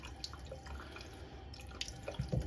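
Squid being rinsed under a running kitchen tap, a soft steady stream with light splashing and drips that grow a little louder near the end, with no talk.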